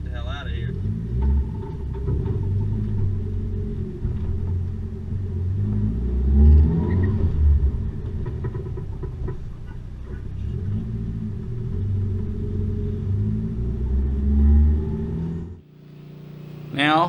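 An SR20DET-swapped, Haltech-powered Nissan 240SX pulls away, its engine a deep steady rumble heard from inside the car with surges of revving, under occasional talk, dropping off near the end.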